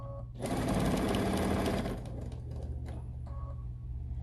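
A sewing machine stitches along the edges of a fabric bracelet, its needle rattling in a fast, loud, even burst for about a second and a half, then slowing into fainter, intermittent stitching runs, close to the microphone with no talk.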